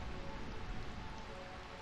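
Continuous heavy rain in Burmecia, the realm of endless rain in the video game Final Fantasy IX, a close, unbroken wash of falling drops with a low rumble beneath and no speech.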